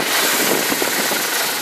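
Mitsubishi Triton engine running at idle while EGR and intake carbon buildup is being worked on, a steady loud close rumble with dense broadband noise and no talking.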